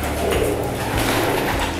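Pigeons in a breeding room scuffle and coo close by, with soft throaty coos, fluttery rustling and a few knocks against the enclosure in a short, busy burst.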